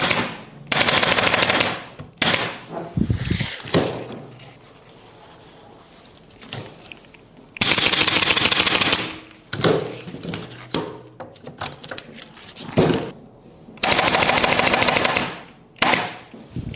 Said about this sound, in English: I am stapling the elastic bands with a nail stapling gun